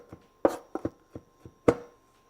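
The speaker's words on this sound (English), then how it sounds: "So finally chop up some garlic." Knife chopping garlic on a cutting board: about seven sharp, separate chops in an uneven rhythm, close and fairly quiet, with no talking.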